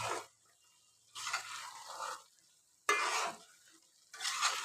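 Egg biryani in a pot is stirred in slow, separate strokes, each a loud scraping, sloshing sweep of rice against the pot, with near-quiet pauses between four passes.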